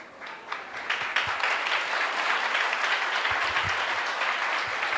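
A church congregation claps along during a Hindi praise service, with steady, fairly faint rhythmic applause that runs throughout.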